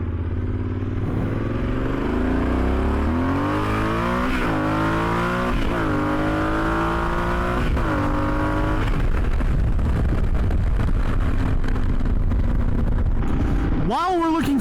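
Yamaha Super Tenere 1200 adventure motorcycle engine under way, loud and close, repeatedly revving up through gears with rising and falling pitch sweeps, wind noise throughout and a brief sharp burst near the end.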